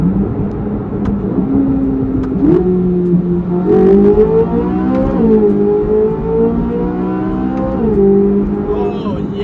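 Mid-engine Corvette Z06 with a naturally aspirated V8 in manual mode, revving hard and stepping through several crisp upshifts, its pitch climbing and then dropping at each shift in a loud, steady engine drone.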